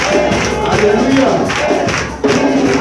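A church congregation breaks into a loud, sustained ovation of cheering and clapping, filling the room with a dense crowd roar that dips briefly near the end before surging back.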